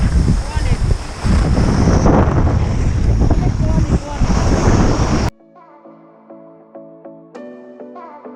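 Strong wind buffets the microphone at a Dolomites ski resort, a loud roaring rush for about five seconds before cutting off abruptly to a quiet passage with faint tonal sounds.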